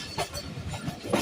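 Awam Express passenger train pulling into Cantt railway station in fog and rain, a steady rumble of wheels and carriages with faint rattling clatter and brief hissing bursts, continuous and fairly close.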